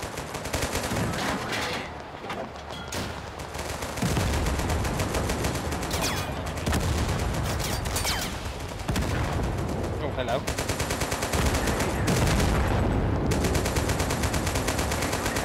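Sustained automatic gunfire aimed at a vehicle in the video game Total Conflict Resistance, loud and nearly continuous, with rapid bursts and heavy booms throughout.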